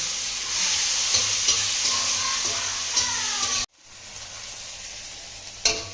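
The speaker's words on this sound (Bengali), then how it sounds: "পেঁয়াজটা একটু লাল লাল করে ভেজে নিয়েছি এখন দিয়ে দেবো কাঁচা লঙ্কা টমেটো ভালো করে ভেজে নিয়ে" Onion, green chili and tomato fry in a pan with a steady close sizzle and light stirring taps, then after a brief cut the sizzle continues softer, ending on a sharp clatter.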